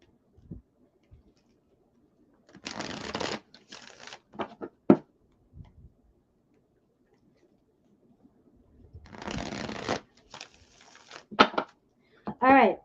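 Tarot cards being shuffled in two bursts, a longer riffling rustle early on and another near the end, with brief taps and soft clicks between them in a quiet room.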